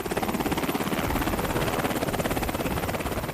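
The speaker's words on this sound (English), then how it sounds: "the Mounties in southwestern Ontario showed off one of 2 new Black Hawk helicopters they're leasing to help beef up Border Patrol, one of Donald Trump's key demands" An RCMP Black Hawk helicopter leased for border patrol in southwestern Ontario thunders loud and close, its rotor beating in a steady rapid pulse with no talk.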